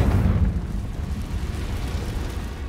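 A Confringo fire-blast spell explodes in Hogwarts Legacy, a dense low rumbling roar that sustains loudly for under three seconds with no talk.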